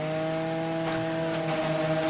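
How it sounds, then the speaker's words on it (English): A hammer mill bagger on an Old Order Amish farm in Lancaster County grinds freshly harvested cob corn for earlage, producing a loud, continuous mechanical roar with a steady droning hum and faint grinding texture throughout. "cob corn, taken from the field just days earlier, is fed into a hammer mill bagger"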